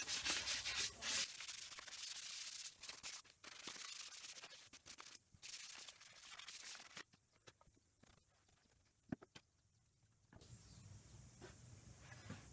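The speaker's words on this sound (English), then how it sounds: "Just giving it all once over with fine grade sandpaper" Fine-grade sandpaper rubbed over a sand-sealed Fender Stratocaster guitar body, steady rasping strokes in quick repeated bursts that pause briefly and then resume, close and alone.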